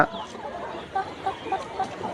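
Layer pullet chickens on a poultry farm cluck in short, repeated calls at a moderate distance, over a low farmyard background.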